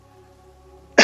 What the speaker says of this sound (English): I apologize for all my constant coughing, but it happens.